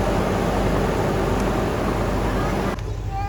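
A Hummer H3 donor engine runs at a steady idle, a loud broadband roar that cuts off near the end.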